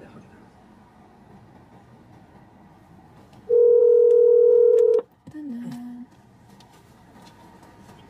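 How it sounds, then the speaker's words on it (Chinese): A phone call placed by a food delivery driver in Waterloo: a steady electronic tone sounds for about a second and a half, followed by a shorter wavering tone, over a quiet background with a brief spoken word. "我打个电话给他。"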